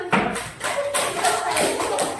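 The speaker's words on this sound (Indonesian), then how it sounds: "Oke, tepuk tangan" Classroom of pupils clapping together in a few rhythmic bursts of sharp, near hand claps, uneven but in time, with a faint voice in the background.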